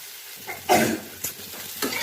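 Fried vegetables with turmeric and salt are mixed in a pan, giving three or four close, scraping spatula strokes over a faint, steady sizzle.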